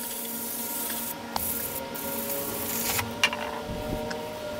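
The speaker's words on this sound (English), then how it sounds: "using the brake parts cleaner, clean up the cover" Brake parts cleaner hisses as it is sprayed onto the axle cover of a 1999-2004 Jeep Grand Cherokee WJ, in short bursts mixed with rubbing and wiping, close by and moderately quiet.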